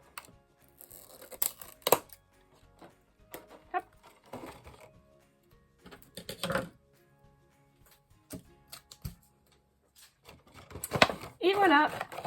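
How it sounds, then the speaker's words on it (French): Scissors snip through laminated plastic edges while shaping a laminated box made without glue, with short crisp cuts scattered between quiet crafting sounds and a brief denser clipping burst near the end. "moi je vais venir mettre un petit coup de ciseau"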